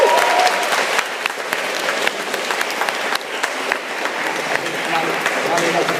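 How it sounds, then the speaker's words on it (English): Sustained applause from an audience after a senior student hustings, dense steady clapping filling the room for the whole stretch, with a few louder individual claps standing out near the front. "could we have a round of applause for her?"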